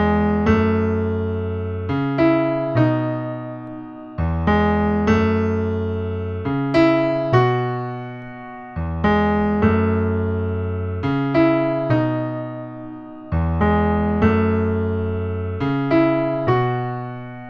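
Solo piano plays the intro of a pop song, with repeated chord patterns struck in a steady rhythm and ringing out between strikes, clear and close with no talk.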